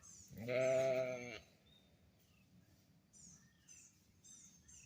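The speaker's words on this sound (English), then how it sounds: "I hear the sheep." A single loud sheep bleat up close, a wavering nasal cry lasting about a second, followed by faint bird chirps over quiet outdoor background.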